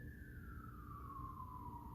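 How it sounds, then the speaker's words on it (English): A distant siren wails in a single long falling tone over a low traffic rumble, faint and steady. "The sirens are going by."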